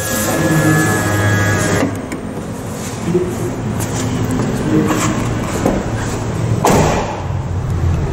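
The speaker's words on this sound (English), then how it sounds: "And roll down the driver's side window." A 2023 DFSK Gelora E minibus driver's side power window rolls down, giving a steady, continuous motor whir for about eight seconds with a couple of soft thumps along the way.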